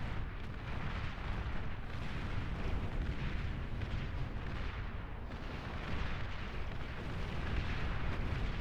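Units firing and explosions rage in a Beyond All Reason real-time strategy battle, with flame, electric and plasma weapons going off at once: a dense, continuous roar of overlapping blasts and gunfire with no clear gaps.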